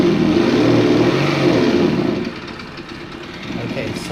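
A 1/6 scale New Bright Jeep TJ Rubicon RC conversion revs its engine sound loudly for about two seconds, then drops back to a quieter idle and starts to build again.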